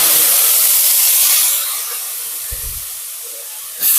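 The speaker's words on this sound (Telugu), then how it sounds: "ఫస్ట్ మనం వంకాయ వేసి ఫ్రై చేసుకోవాలి" Brinjal pieces frying in hot oil in a pan, a loud steady sizzle that eases partway through, with a brief low knock near the middle and a sharp burst of hiss at the end.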